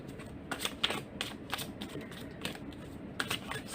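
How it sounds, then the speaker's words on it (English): Tarot cards being shuffled by hand, a series of soft, quick riffling and flicking bursts at irregular intervals, fairly faint and close, with no talking. "I'm gonna shuffle cards first."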